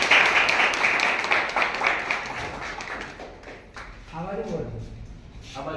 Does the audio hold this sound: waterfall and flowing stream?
no